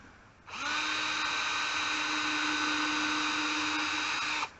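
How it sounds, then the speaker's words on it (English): A power drill whirs steadily at high speed for about four seconds, pre-drilling wood for a screw, starting and stopping abruptly, close up with no talking. "We're going to pre-drill this."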